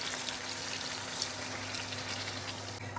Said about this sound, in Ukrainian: Далі додаємо водички